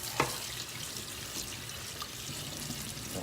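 Water running from a kitchen tap while something is rinsed under it, a steady soft splashing hiss lasting a few seconds with a faint clink near the start.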